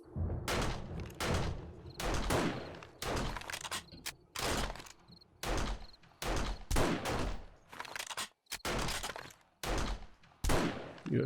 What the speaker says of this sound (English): pull out your rifle, and we start taking some shots